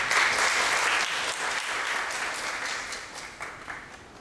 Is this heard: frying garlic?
no